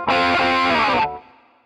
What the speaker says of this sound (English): it sounds like he slides down off the double stops at the end of each time through